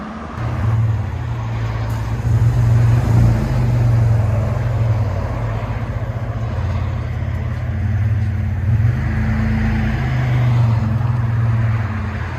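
Third-generation Toyota 4Runner with a 3.4L V6 idling through a Flowmaster exhaust, a steady low rumble that stays smooth and quiet, heard up close with no voices.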